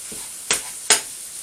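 Beef burger meat sizzles in a frying pan as it is chopped and turned, with two sharp scraping hits about half a second apart over a quiet, constant frying hiss.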